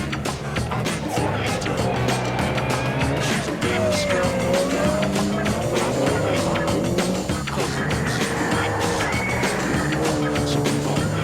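A 4x4 Ford Sierra rally car races on a special stage of an international rally in Finland, its engine roaring loud and continuous with tire squeal and changing pitch as it drives hard.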